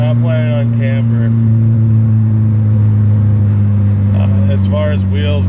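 A big turbo Volvo car drones under load as it pulls onto a freeway on-ramp, a steady low engine tone filling the cabin while someone talks over it.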